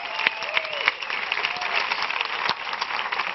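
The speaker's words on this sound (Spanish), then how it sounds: "Fuerte el aplauso para el notario, hombre." Strong applause from a studio audience at a Spanish comedy show, given to a stand-in notary, with many hands clapping in a dense, bright burst and sharp individual claps poking through, plus faint voices mixed in.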